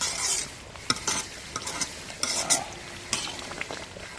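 Spicy village-style chicken gravy is stirred in a pan, a spoon scraping and clinking against the metal in irregular strokes over a low background sizzle, close and fairly quiet.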